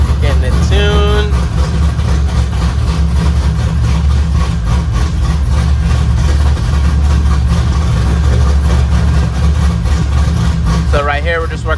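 An LS V8-swapped Nissan 350Z engine runs loud and steady at idle with a deep, constant rumble throughout, while people talk nearby over the engine.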